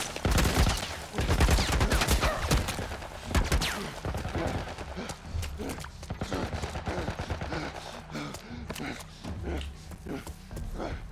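A turret fires in the video game The Last of Us. Dense bursts of machine-gun fire come close and loud, with mixed game sounds and voices talking in between.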